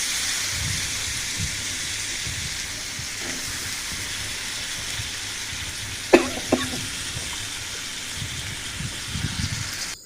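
Eggplant and tomatoes fry in oil with a soft, steady sizzling hiss, punctuated midway by a few sharp clinks of a utensil against the pan and light stirring toward the end.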